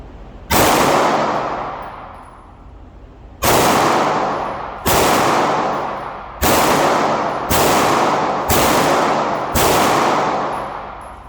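A small, lightweight Sig Sauer P365 SAS pistol fires at a shooting range. Seven loud, sharp shots ring out at uneven intervals, each trailing a long, echoing decay, with no talking.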